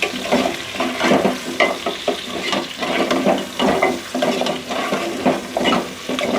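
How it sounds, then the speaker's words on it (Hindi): Beef trotters fry with cumin, coriander and garam masala in a pan, a loud close sizzle broken by repeated rhythmic scraping and stirring strokes, with no talking. "अभी तकरीबन 4 से 5 मिनट हो गए मुझे इसमें भूनते हुए"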